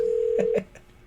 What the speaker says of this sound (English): Until I get some phone numbers actually running through, I'm just going to make some phone calls.